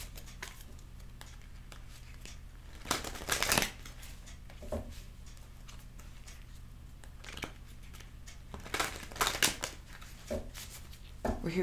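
A deck of cards being shuffled in several brisk riffling bursts, close and fairly loud, separated by quiet stretches with a low steady hum underneath.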